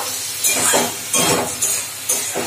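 Potatoes and pointed gourd are turned in a frying pan, with a steady sizzle under a handful of spaced clinks and scrapes of the spatula against the metal, all close by.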